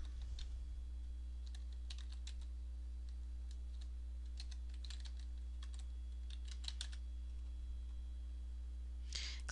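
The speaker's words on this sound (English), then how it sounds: "go ahead and type the address of the site" Steady typing on a computer keyboard while entering a website address, light irregular key clicks close and fairly quiet over a constant low hum, no talking.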